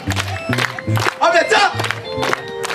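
A crowd at a youth festival in Mvouti claps and cheers alongside loud, chanting voices, with bursts of shouting and cheering rising over the rhythmic talk.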